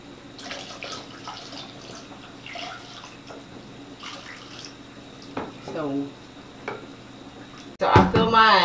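Homemade hummingbird nectar made from boiled water is poured into a feeder, a splashing liquid sound under steady talk that ends in a louder, brief gush.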